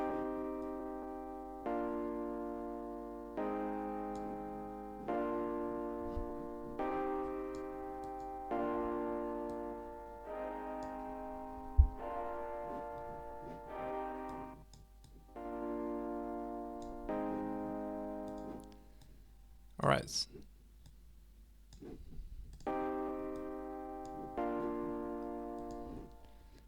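Repeated sustained tonal notes swell and ring out with a long, washed-out reverberant tail from a fully wet reverb effect in FL Studio, each tone blurring into the next; a single brief word is spoken.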